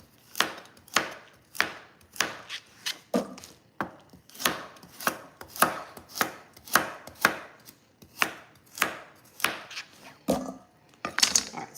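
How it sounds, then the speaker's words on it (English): A knife cuts vegetables on the bias for chicken soup, sharp rhythmic chops striking a board about twice a second, close and clear with no talk. "So I'm gonna cut these on the bias."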